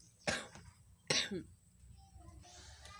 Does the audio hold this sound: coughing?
yes